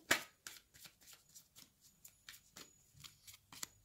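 Oracle cards being shuffled by hand and cut, a run of quick soft papery riffles and taps in an even rhythm, close and quiet with no talking.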